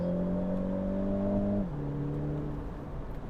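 A Mini Cooper JCW convertible drives off, its engine droning steadily then dropping in pitch as it shifts gear about halfway through, smooth and close with no talking.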